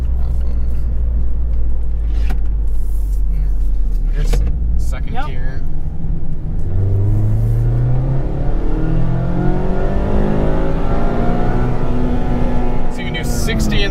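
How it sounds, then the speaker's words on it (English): A 2020 Mazda Miata accelerates hard in second gear. The engine rumbles low, then climbs in a loud, rising rev through the cabin as the car gains speed. "Let's see what our max speed is in second and third gear."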